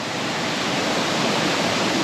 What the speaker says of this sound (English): the appearance of the water coming down the rocks